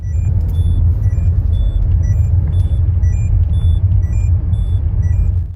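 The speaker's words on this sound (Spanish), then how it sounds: "emite un pitido de aviso para recordarte que te lo pongas" Repeated high electronic seatbelt-warning chimes beep at a steady rhythm over a loud, constant low engine rumble from inside a moving Citroën.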